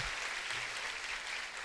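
Church congregation clapping during a Portuguese-language sermon, a steady dense wash of applause that holds evenly throughout and fills the whole clip without voices on top.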